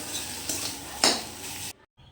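Spatula scraping and clinking in a pan as fried potatoes are stirred with spices and a little salt for a homestyle paneer-potato curry, soft sizzling underneath with a few sharper metallic knocks, then a brief drop to near silence.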